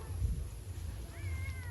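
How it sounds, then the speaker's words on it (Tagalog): A pet cat in a backyard garden meows once, close and clear, the call rising and holding near the end over low background rumble. "Nauuhaw yata itong pusa namin, oh."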